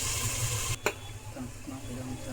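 Onion and ginger-garlic paste fry in a pan, a steady close sizzle with stirring scrapes and one sharp clank of a utensil against the pan partway through.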